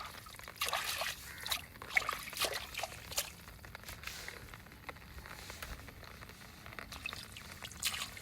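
Soft trickling and splashing of pond water while rinsing hair, irregular small splashes and drips close by, fairly quiet with no speech.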